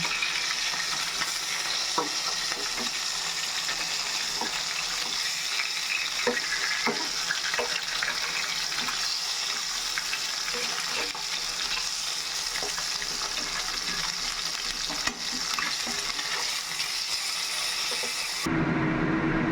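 Katla fish pieces fry in oil in a home kitchen, a steady close sizzle with faint clicks and scrapes as the pieces are turned one by one, with no talk.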